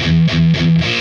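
Distorted electric guitar plays a short repeating 6/4 measure: three quick palm-muted chugging bursts, loud and close, with no voice.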